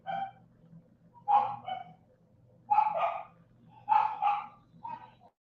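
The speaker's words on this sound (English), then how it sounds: "I got the puppy going crazy out there." A puppy outdoors barks in four or five distinct bursts of yips and barks spaced a second or so apart, moderately loud over a low steady hum.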